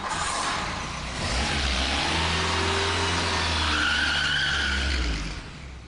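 A VW Golf GTI pulls away hard, its mid-pitched engine revving up and its tyres squealing briefly, loud and close at first and then holding steady before fading at the end.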